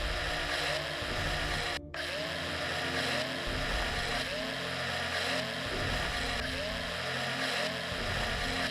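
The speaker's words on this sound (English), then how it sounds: "A space scooter sounds like a scooter. It's a vacuum cleaner." Space scooter in the video game Breathedge, a steady loud whirring drone resembling a vacuum cleaner, holding constant with one brief dropout near the start.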